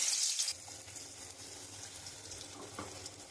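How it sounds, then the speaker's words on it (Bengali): Greens fritters of gima shak dropping into hot oil in a wok, a brief loud burst of hissing followed by soft, steady low sizzling frying with no talk. "আমি কড়াইতে তেল দিয়ে দিয়েছি, আমি বড়াগুলো এক এক করে দিয়ে দেবো।"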